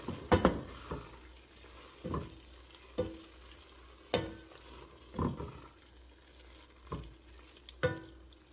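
A thick homemade jam mixture being stirred in a pot, spoon scrapes and soft bubbling sizzle in repeated strokes about once a second, close and moderately quiet, with no one talking.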